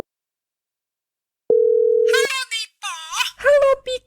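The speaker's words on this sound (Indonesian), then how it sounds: "Cepat kau telepon dia, Dipo." A telephone dial tone while calling someone, a steady close tone lasting under a second that cuts off as a person begins talking over the line.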